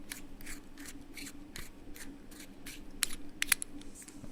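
Tightly packed battery compartment of a Vamo 35-watt vape mod being forced open, a run of faint rhythmic scraping clicks with a few sharper snaps near the end.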